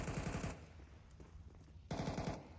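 Pistol gunfire in Counter-Strike on the Dust2 map during an ESL Challenger League match: two loud bursts of rapid, closely spaced shots, one at the start and one near the end, separated by a quieter stretch of game ambience.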